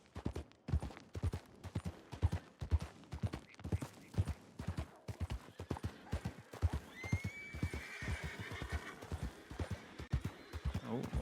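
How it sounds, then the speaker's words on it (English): Many horses in a Wild West role-play video game, with a steady run of hoof clops close by and a clear neigh partway through, while people talk quietly in the background. "Oh, lots of horses."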